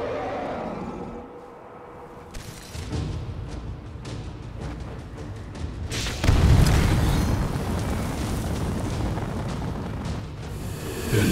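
A fiery magical explosion in the video game Skyrim erupts into a loud, sustained roaring boom with crackling bursts, swelling sharply midway and rumbling on without speech.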